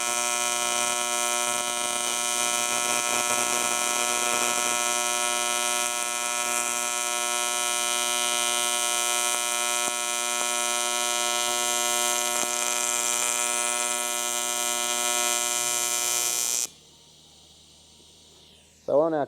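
TIG welding on an alloy ute tray for a Hilux N60, a steady loud buzzing arc hum with strong tonal lines held for about sixteen seconds, then cutting out to near quiet.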